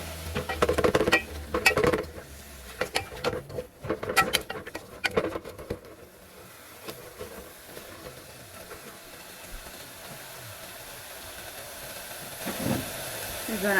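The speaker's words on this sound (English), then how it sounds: "Give that a stir." A spoon stirs onions, sweet pepper, garlic and chive with bitter melon and pink salmon in a pot, giving several clinks and scrapes early on, then a soft steady sizzle and hiss.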